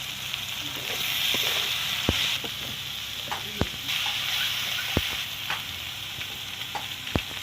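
Spices for a Bengali mustard-poppy fish curry fry in oil in a pan, a steady close sizzle broken by a few sharp clicks and taps of a spoon stirring, with no talk.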